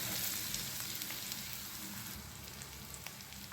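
Boiled potatoes dropped into masala frying in oil for dahi aloo, a soft steady sizzle with faint crackles and stirring scrapes, close and fairly quiet, continuous throughout.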